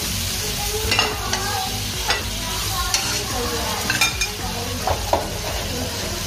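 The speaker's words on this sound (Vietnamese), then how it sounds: "giờ mình sẽ cho rau vào mình xào cho cải thìa cà rốt và bông cải" Bok choy, carrot and broccoli are stir-fried in a pan, with a steady loud sizzle throughout and repeated scraping stir strokes and light clinks of the utensil against the pan, with no talking.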